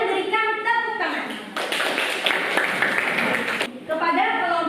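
A classroom group applauds for about two seconds in a short burst of clapping, with voices talking before and after it.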